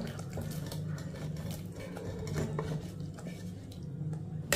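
Cooked vegetables and pulses tipped from one vessel into a pot, with clattering metal and wet sloshing, fairly close and continuous for a few seconds without speech.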